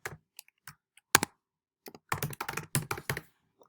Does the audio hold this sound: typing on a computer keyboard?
yes